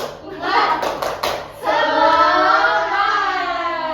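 Children in a classroom perform the tepuk semangat clapping chant, a quick burst of rhythmic claps followed by voices chanting together loudly and close.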